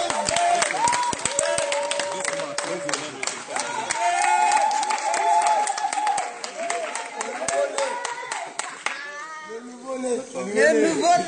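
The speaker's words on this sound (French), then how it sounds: "On acclame le Seigneur, on le fait." A congregation at a baptism celebration claps and cheers in acclamation, with loud, dense applause, shouts and voices continuing throughout.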